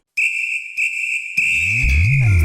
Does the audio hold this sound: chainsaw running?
no